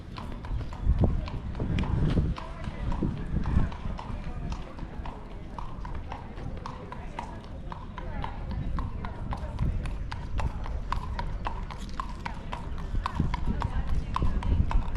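A horse being ridden at a stroll along a street in Colonial Williamsburg clip-clops steadily, its hoof strikes sharp and rhythmic throughout, with people talking nearby in the background.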